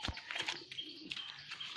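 A young pigeon in an Indian village, heard faintly at a distance as soft chirps and light calls scattered across a couple of seconds.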